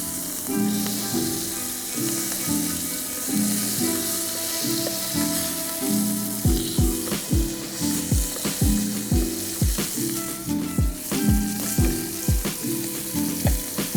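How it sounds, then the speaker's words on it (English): A smashed burger patty frying on a hot surface gives a loud, steady sizzle and crackle up close. Rhythmic thumps and a repeating musical pattern run underneath, with no talk. "We're just gonna let that cook, create a nice crispy exterior, yeah?"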